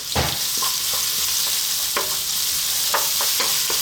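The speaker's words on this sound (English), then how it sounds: "Let's drop in our onion and our chopped garlic." Onion and chopped garlic frying in olive oil in a pan, a loud, steady sizzle with a few scattered stirring knocks, close up, no talk.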